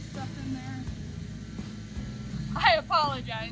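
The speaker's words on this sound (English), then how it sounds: "The neighbor decided to mow his lawn right now" A neighbor's lawn mower drones steadily in the background of an outdoor campfire cooking session, a low continuous engine hum throughout, with a voice speaking briefly near the end.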